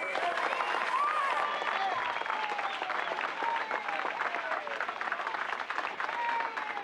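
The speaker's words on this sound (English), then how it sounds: "put together a big round of applause for Melvin Van Peebles" Sustained audience applause and clapping fill a hall throughout, with excited voices and cheering mixed into the steady roar.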